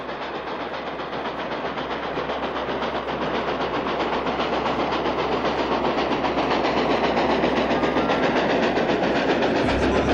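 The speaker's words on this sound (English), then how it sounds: "there are other videos where I can get great footage of the Grand Canyon Railway" Grand Canyon Railway train rolling past, a loud, steady rumble with the rhythmic clatter of wheels on rail joints building slightly in volume, no talk over it.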